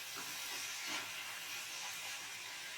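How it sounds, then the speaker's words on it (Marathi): Chopped onion and tomato sizzle steadily in a frying pan for a Goan prawn curry, a continuous bright hiss with no pauses or talk. "आता यात बारीक चिरलेला कांदा, टोमॅटो घालूया. कांदा टोमॅटो लालसर होईपर्यंत भाजून घेऊया."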